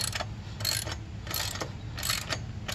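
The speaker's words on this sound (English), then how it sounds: "You want to make sure not to tighten this too tight, just snug it." Ratchet wrench snugging a bolt on the rear brake of a 1981 Yamaha XV750 motorcycle: three short bursts of rapid clicking, close and fairly loud, with no talking.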